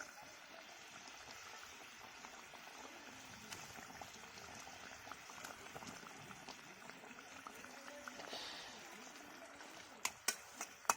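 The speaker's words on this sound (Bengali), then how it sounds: "ঝোল ভালোভাবে দেখতে পাচ্ছেন ফুটে গেছে।" Fish curry gravy for Bengali cutlet kalia bubbling steadily in a pot, a soft continuous simmer with faint liquid gurgles and a few sharper clinks near the end.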